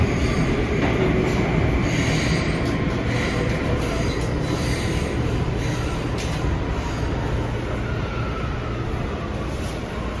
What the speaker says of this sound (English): This is the 205th Street bound C train via the D line.